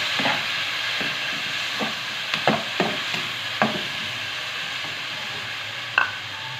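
Tomatoes frying in a pan for a chicken and bitter gourd (karela) dish give a steady sizzle, broken by occasional soft scrapes and stirring clacks.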